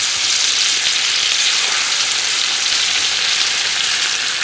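Fish, including small puti, fry in hot oil in a pan with a loud, steady, continuous sizzle close by, with no voices.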